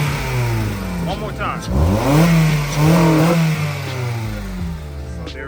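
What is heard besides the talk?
Acura RSX engine revving with Injen short ram intake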